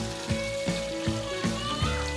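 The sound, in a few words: beef frying in pan, Kerala style beef fry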